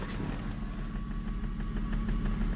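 A 3.8L V6 in an SN95 Ford Mustang idles with a slight shudder and hesitation from a suspected misfire and bouncing fuel pressure: a low, steady rumble with faint uneven pulsing, heard alone at moderate volume.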